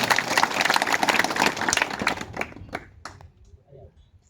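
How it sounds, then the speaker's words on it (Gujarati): Crowd applause greeting a guest at an Aam Aadmi Party village public meeting in Gujarat, a dense burst of clapping that thins out and fades after a couple of seconds. "એમને તાળીના સ્વાગત વધાવી લઈશું"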